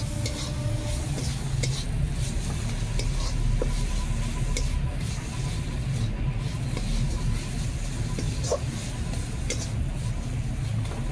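A sweet coconut and milk filling being stirred in a pan, with continuous scraping and soft sizzling close by, steady throughout with occasional clinks of the utensil against the pan.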